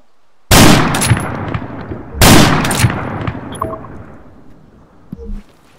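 Two loud, sharp gunshots in ArmA 3 (Exile mod), about two seconds apart, each followed by a long echoing decay, with faint clinks afterward.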